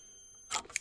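A multimeter in continuity mode beeping across a diode inside an online UPS during repair, a short burst of tone followed by a second brief beep after near-silence.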